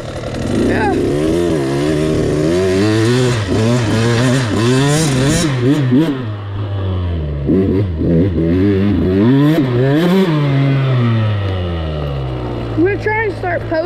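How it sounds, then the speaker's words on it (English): A KTM TC 85 dirt bike on a trail, its two-stroke engine revving up and down repeatedly, loud and close, with a person speaking over the engine noise. "I just warmed my bike up."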